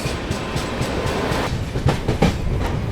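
The Sitamarhi–Anand Vihar Lichchhavi Express runs at top speed, its wheels giving a steady rumbling clickety-clack heard close from on board, with no talking.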